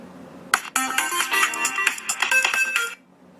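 Casio G-Shock GBD-800 G-Squad step tracker's find-phone function sets the paired phone ringing: a loud, close electronic ringtone with rapid repeating melodic notes running about two and a half seconds before stopping abruptly, with no talking.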